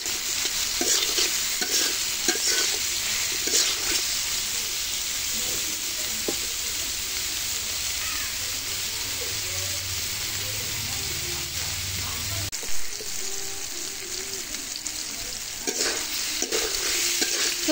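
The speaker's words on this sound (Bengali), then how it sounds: "সয়াবিন আর আলুগুলো হালকা ভেজে নিয়েছি" Soybean chunks and potatoes fry in oil with a constant dense sizzle and scraping stirs throughout, loud and close, shifting in texture partway as the pieces are moved around the pan.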